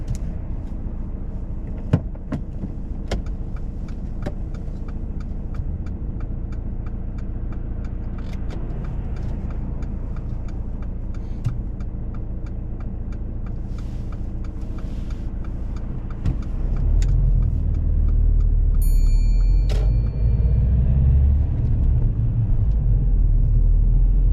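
A car pulls away during a UK mock driving test: a steady low engine rumble idles, then swells louder and fuller toward the end as the vehicle moves off, with no talking.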